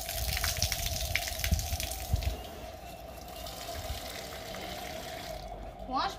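Water running and splashing as soaked ingredients for a crispy evening snack are rinsed and drained in a home kitchen, a steady close gush with scattered clatters and a faint background hum.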